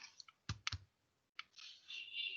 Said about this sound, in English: right now I am just typing 12